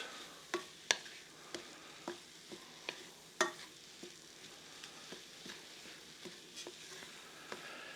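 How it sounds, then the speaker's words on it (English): Food browning in a pan over high heat is stirred, giving a soft background sizzle broken by a series of sharp, irregular utensil clicks and scrapes, close and fairly quiet, with no talking. "We'll mix this up as it browns."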